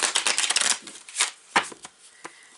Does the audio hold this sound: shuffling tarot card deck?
yes